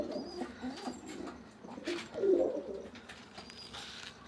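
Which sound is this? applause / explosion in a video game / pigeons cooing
pigeons cooing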